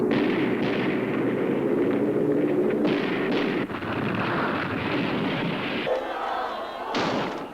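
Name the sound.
anti-aircraft gunfire in archival war broadcast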